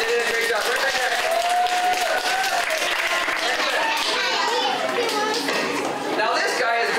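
At a Minnesota Zoomobile animal show at Helen's Zoo House, an audience of children and adults claps for two child helpers. Sharp claps fill the first half, then fade under children's chatter and an adult speaking.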